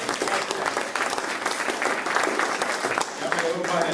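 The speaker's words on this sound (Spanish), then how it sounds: "aplauso para el brother." An audience applauds a speaker at a gathering, with dense, continuous clapping that stays loud and close from start to finish.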